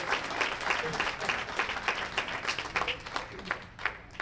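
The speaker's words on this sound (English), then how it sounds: "let's give Aunt Ruby a big round of applause as she takes the center stage" A crowd gives a warm round of applause at a 100th birthday celebration as Aunt Ruby takes the stage, with steady clapping and scattered voices throughout.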